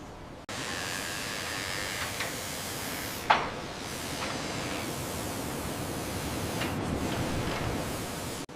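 A continuous hissing water spray starts abruptly and runs steadily, with a brief knock partway through, then cuts off.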